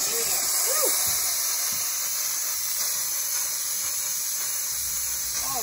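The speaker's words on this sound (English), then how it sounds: "I'm gonna push this, the button here to activate the steam" A Bissell Power Steamer lets out a steady, close hiss of steam that runs the whole time during cleaning, with small clicks and handling noises over it.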